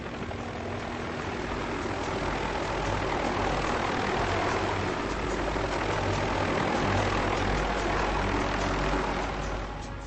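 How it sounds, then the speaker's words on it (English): A helicopter is heard over a volcano in zero visibility as a continuous rumbling drone of rotor and engine. It stays steady and fairly strong for ten seconds, with no talking. "All of a sudden, I hear the helicopter"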